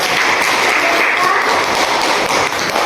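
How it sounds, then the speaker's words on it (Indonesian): Classroom or school group clapping for a speaker, a continuous, fairly loud rattle of many hands with no gaps across the whole stretch. "Tepuk tangan untuk"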